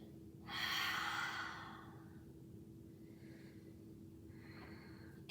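A single long breath, likely an exhale, rushes out softly and close during a gentle yoga session, followed by quieter, fainter breaths over a steady low hum.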